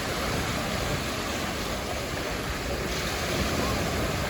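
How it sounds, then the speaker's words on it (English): Rough surf at Alcudia beach on Mallorca, a steady, loud wash of waves mixed with gusting wind noise across the microphone. "how fierce the waves have got now"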